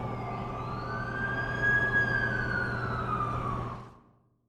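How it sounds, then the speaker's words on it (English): An ambulance siren from the video game The Amazing Spider-Man 2 wails in a single long rising and falling tone over a low engine hum before cutting off abruptly at the end. "That's the ambulance I called."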